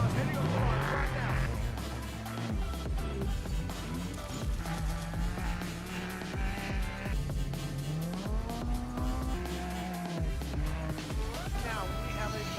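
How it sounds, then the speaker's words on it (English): Off-road race trucks on KMC wheels lining up for the Vegas to Reno desert race, engines revving and rising in pitch with bursts of throttle, loud and close beneath excited commentary. "the first 2 cars heading on the line right now"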